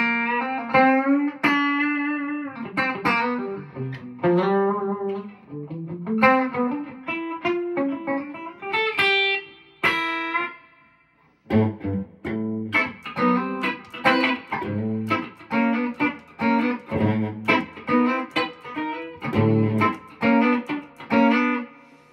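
Paoletti Stratospheric electric guitar with maple roasted neck and rosewood fingerboard, played clean through a Princeton Reverb amp: a steady run of picked single notes and chords with a short pause midway, loud and close, with no talking.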